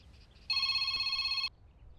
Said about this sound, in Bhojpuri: शिवानी, शिवानी के फोन।